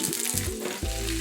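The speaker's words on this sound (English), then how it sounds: "We're going to start by browning our ground beef." Ground beef browns in a hot frying pan for Filipino-style spaghetti, giving a loud, steady, close sizzle with crackling throughout and no talking.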